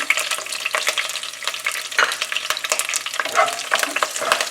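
Green chilies slit open sputter and pop steadily in hot oil in a pan for a coconut fish curry, a dense continuous crackle with sharp pops and a faint hum beneath.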